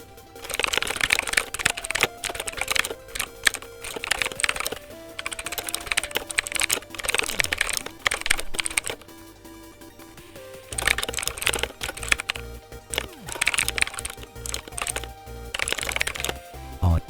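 Rapid keyboard typing entering text into a drop-down translation tool, a dense run of clicky keystrokes in two bursts separated by a short lull.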